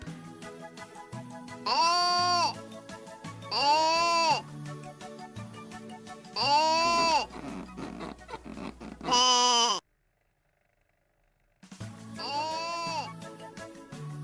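Sheep bleat five times in long, wavering calls spaced a couple of seconds apart, close and loud, with a short silent gap before the last.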